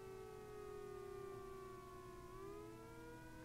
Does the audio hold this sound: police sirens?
yes